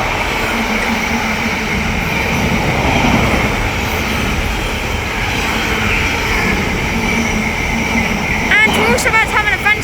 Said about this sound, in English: West Coast service passed by from London Euston